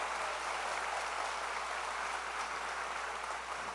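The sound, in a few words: church congregation applauding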